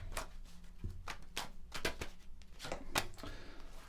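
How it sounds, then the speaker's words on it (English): Tarot cards are shuffled by hand in a quick series of crisp, papery riffles and slaps, close and fairly loud, with no talking. "I'm going to give the cards a good shuffle"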